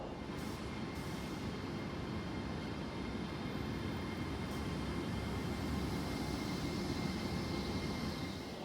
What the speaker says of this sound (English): my train is due to pull in about 25 minutes before departure